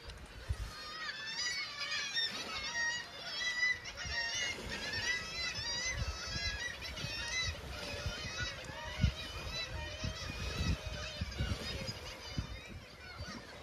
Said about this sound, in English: the younglings can be heard from afar as they are crying for food every time an adult flies close to their nest